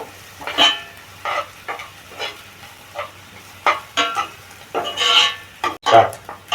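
Chopped green chillies and onion frying in a pan while a spatula stirs them, with repeated scraping strokes over a crackling sizzle and a louder clatter near the end.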